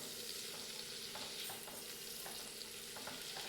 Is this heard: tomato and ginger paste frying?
yes